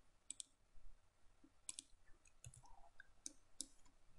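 Computer mouse clicks while drafting a galley kitchen floor plan in CAD: sharp, close, quiet clicks arriving mostly in quick pairs at irregular intervals, with faint low room noise and no talking.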